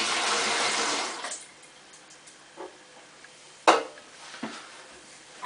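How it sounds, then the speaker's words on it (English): Tap water runs loudly at first while a can is rinsed out during home brewing, then stops, leaving a few clanks and knocks of the metal can against the sink. "I just give that another quick rinse under the tap to get the rest of the juice"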